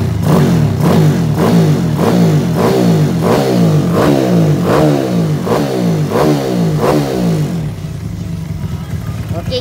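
A Honda Wave125 motorcycle fitted with a racing oil pump revs repeatedly, about nine sharp rising throttle blips in a steady rhythm, loud and close, before settling to a rough idle.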